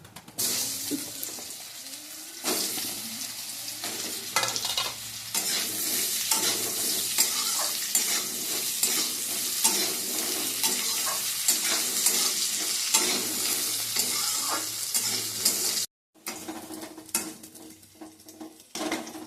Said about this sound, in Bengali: এবার আলুগুলো দেবো।